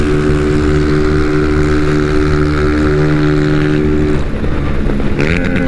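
A Honda Titan 160 motorcycle engine revs up steadily on the road, a loud continuous drone with rising pitch toward the end, heard alone without talk.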